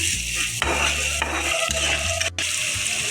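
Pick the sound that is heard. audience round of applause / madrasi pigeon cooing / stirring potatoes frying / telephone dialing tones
stirring potatoes frying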